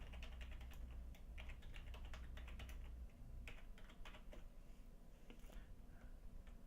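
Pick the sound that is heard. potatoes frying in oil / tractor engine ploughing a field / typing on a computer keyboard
typing on a computer keyboard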